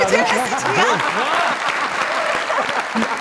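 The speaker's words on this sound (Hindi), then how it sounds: "अरे बहुत सारी तालियां" Many audience members clap together during a live comedy show, a dense and loud burst of applause with voices talking over it throughout.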